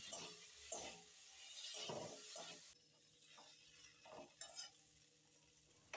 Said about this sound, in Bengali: এরপর এতে ভেজে রাখা ফুলকপি আর আলু দিয়ে আরও মিনিট 5 মতো কষিয়ে নিতে হবে, মানে ভেজে নিতে হবে